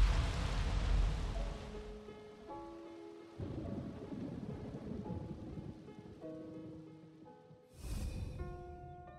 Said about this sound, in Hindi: कल रात एक भयानक तूफान आया था।